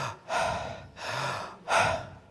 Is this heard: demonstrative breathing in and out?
yes